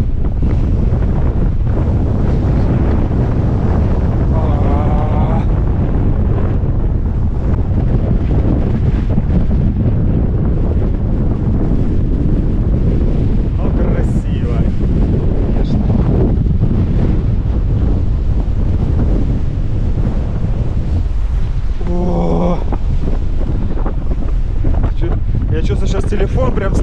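Strong coastal wind buffets the microphone on the seafront at Simeiz, Crimea, a loud, continuous roar with gusts through the whole stretch, and surf and brief voices in the background.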